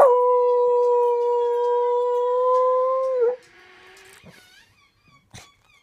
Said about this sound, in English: He howls. Oh, I love the howls.